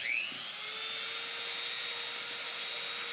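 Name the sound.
Dremel rotary tool trimming a door hinge pin spring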